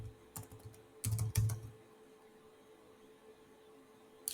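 Several short bursts of computer keyboard keystrokes, close and fairly soft, clustered in the first second and a half while a setup plugin name is being typed, followed by quiet room hum and one more tap at the end.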